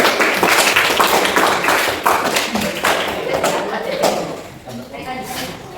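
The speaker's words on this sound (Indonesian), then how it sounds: "Beri tepuk tangan buat kelompok 4." A classroom group claps together in a lively burst while voices chatter over it, gradually thinning out toward the end.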